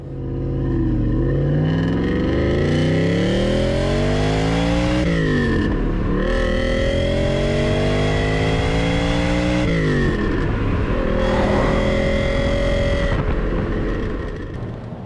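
The Ferrari-built V8 of a Lancia Thema 8.32 saloon revs hard and close, climbing through rising sweeps that break off at gear changes, then pulling up again, loud and uninterrupted.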